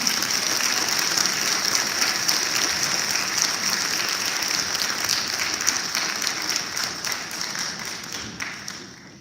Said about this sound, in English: a round of applause for these students